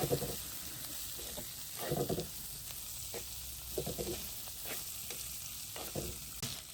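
Spices tempering in hot oil for a fish curry, a steady sizzle broken by several louder stirring scrapes spaced a second or so apart, close and moderately loud with no talking.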